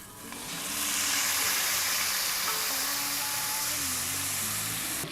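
Pieces of meat sear in a hot pan for a holiday recipe, giving a loud, steady broadband sizzle and hiss that swells quickly and holds, with a faint low hum beneath.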